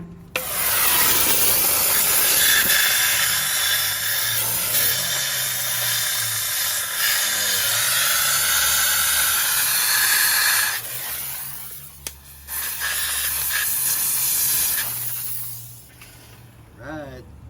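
Aerosol degreaser sprays onto the rear suspension of a 1967-72 Chevrolet C20 truck during coil spring and panhard bar bushing work, a loud steady hiss running for about ten seconds, breaking off, then resuming in shorter bursts.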